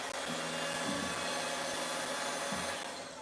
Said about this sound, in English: I don't even know what to do with the ants, but I'm just gonna hoover them up.